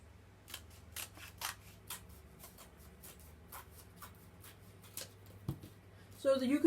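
Scissors cutting paper along a pencil line in a craft session, a series of quiet, close snips at an uneven pace with faint rustling, and a brief louder handling noise at the end.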